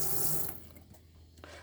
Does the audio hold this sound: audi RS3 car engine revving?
no